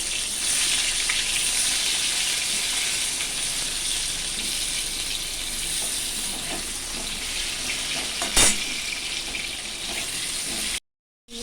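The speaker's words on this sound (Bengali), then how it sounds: "ঠিক একইভাবে আমি বাকি পটলগুলো ভেজে নিচ্ছি।" Pieces of pointed gourd (potol) fry in a pan with a steady, close, watery hiss, broken by one sharp knock near the end before a brief cut to silence.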